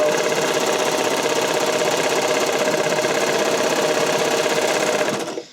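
A sewing machine runs steadily, stitching a stretched seam on a skating dress, its loud, even motor whirr and rapid needle chatter continuing unbroken before stopping abruptly at the end.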